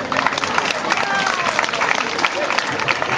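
Audience applause at a theatre performance during a Saint Louis festival, dense and steady clapping from a crowd filling the whole stretch, with some murmuring in the background.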